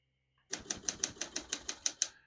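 Rapid keystrokes on a 1975 Olympia SM9 portable typewriter, about ten crisp, evenly spaced clacks close up, with no talking.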